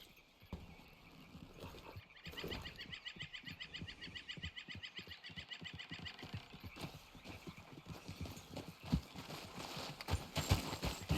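Horse hooves clip-clop in Red Dead Redemption 2, a steady trotting rhythm of soft thuds repeating throughout, with faint ambient game sounds around them and no talk.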